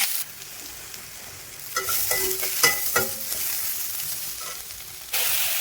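Chilli, garlic and onion fry in oil in a kadai, a steady close sizzle with crackling bursts and stirring scrapes through the middle, then a louder hiss at the end.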